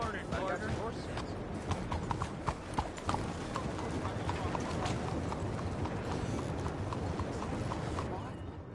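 Rapid, rhythmic clip-clop of horse hooves trotting on hard ground in Red Dead Redemption 2, steady and close, with faint voices mixed in.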